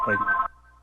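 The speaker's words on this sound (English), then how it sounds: "That's my phone" A mobile phone rings during a town Select Board meeting, its tonal ringtone starting under a voice and then sounding alone, steady and moderately loud, through the rest of the moment.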